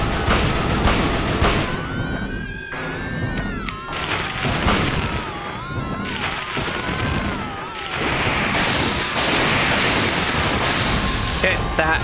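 Gunshots in a Silent Hill video game, loud booming shots in a cluttered mix with tonal game sounds and a talking voice throughout.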